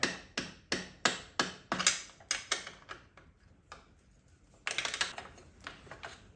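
A series of sharp knocking taps from a rubber mallet strikes a stuck bolt on a Schwinn hybrid bike in quick succession, pauses, then resumes with a cluster of blows; no one speaks.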